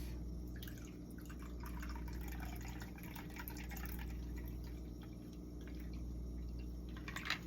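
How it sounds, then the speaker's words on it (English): A cocktail, a Cupid's Cosmo, is poured into a glass: a soft, continuous trickle of liquid runs steadily through the clip over low background hum, with no talking. "so now we're just going to pour this into the glass"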